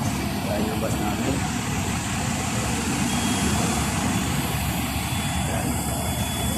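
A bus rumbles nearby with a steady, low engine drone and the faint tones of reversing beeps, while people talk over the continuous mechanical hum outdoors.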